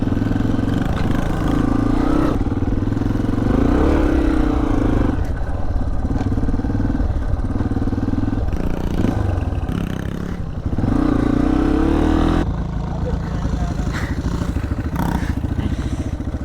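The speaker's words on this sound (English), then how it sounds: "the little dirt bike's so much better on there" A small dirt bike rides around a skatepark, its mid-pitched engine droning steadily and revving up and down throughout, close and loud, with brief dips and clattery bumps.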